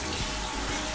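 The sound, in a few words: water running into an orange bucket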